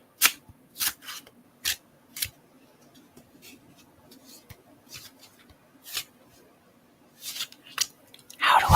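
Playing cards are shuffled quietly by hand nearby, giving soft, scattered riffles and crisp flicks at irregular intervals over a faint low hum, with a denser rustle at the end.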